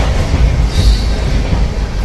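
A train rolls past close by with a loud, continuous rumble of wheels on rails, and a brief metallic wheel squeal rises partway through.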